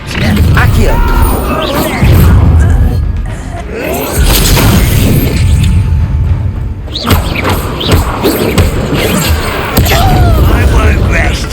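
Accio summoning spell cast during a goblin camp battle in Hogwarts Legacy, a whoosh and thud buried in a loud, dense mix of combat booms, crashes and impacts, with voices shouting over the fray.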